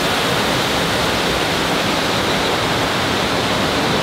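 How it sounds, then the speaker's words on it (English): Running water at Pandora in Disney's Animal Kingdom at night, a steady dense rush like a waterfall or stream, loud and continuous with no voices over it. "They got the water running."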